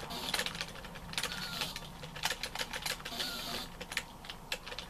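ZX Spectrum rubber keys being pressed, a quick irregular run of soft clicky taps, close and fairly quiet, with no voices over them.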